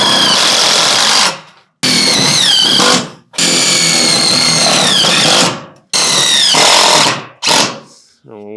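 A power screwdriver drives screws into metal siding on an upcycled barn-style animal enclosure, loud and close, running in four long whirring bursts that rise and fall in pitch, with short pauses between and a brief final spurt.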